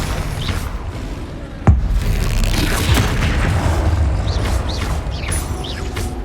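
A Confringo fire spell explodes in Hogwarts Legacy combat, a single loud sharp blast followed by a rumbling burst over continuous battle noise and scattered magical effects.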